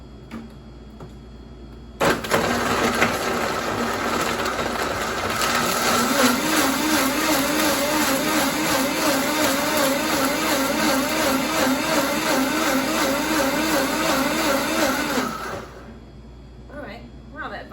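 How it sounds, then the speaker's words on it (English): A Vitamix blender runs loud and steady for about thirteen seconds, pureeing raw vegan lemongrass soup, then cuts off into a quiet room. "let's just try blending this a little bit"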